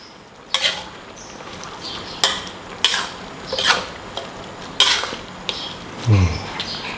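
Holy basil leaves being stirred into a pot of chicken curry with glass noodles, with several distinct scraping and clinking strokes of a utensil against the pot and a faint simmering bubble underneath, no talking.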